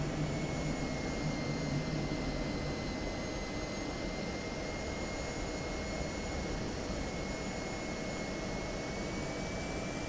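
An F-16C Viper jet in the DCS World flight simulator, air brake deployed during air-to-air refuelling, gives a continuous, even turbine roar with a faint high whine held steady throughout.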